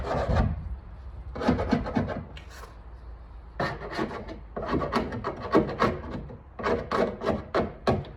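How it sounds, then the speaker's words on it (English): A hand scraper is dragged across a car body panel to strip off old black seam sealer during a patch panel replacement, giving repeated rasping, gritty scrapes in bursts of several strokes with short pauses between, close and fairly loud. "you want to get your scraper, scrape it all off around there, make sure it's nice and like clean"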